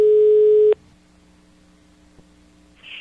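A phone line plays a steady electronic tone for about three quarters of a second while a call is placed, cutting off abruptly and leaving quiet line hiss and a faint click.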